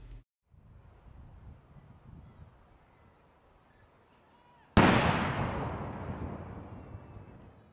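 A single gun salute at Trooping the Colour booms out suddenly after a quiet stretch of distant crowd murmur, the loud blast echoing and fading over a few seconds.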